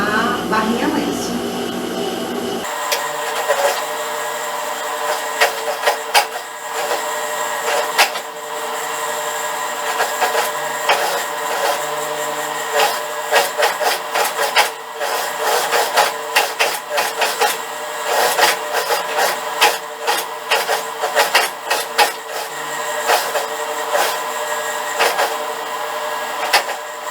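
A sewing machine fitted with a narrow rolled-hem foot stitches a double-folded hem on a child's blouse, a steady fast mechanical clatter running continuously and close, after a brief pause at the start.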